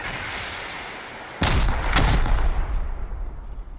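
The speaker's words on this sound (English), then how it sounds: "somewhere in the base, there's definitely a grenade launcher" Grenade launcher blasts during a base raid in a video game: two sharp, loud explosions about half a second apart, each trailing into a rumbling decay over a steady background hum.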